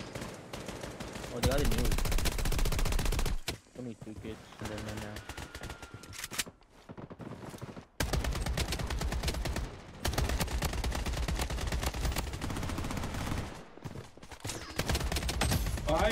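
Long bursts of AK47 automatic fire in Bloodstrike rattle loudly, broken by short pauses and a quieter stretch in the middle.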